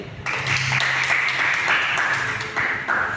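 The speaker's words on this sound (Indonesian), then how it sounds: "Sekali lagi, beri tepuk tangan kepada beliau." Audience applause at a school history-class reenactment of an Indonesian congress, honoring a composer after a song; dense steady clapping fills the whole stretch with a faint low tone and murmur underneath.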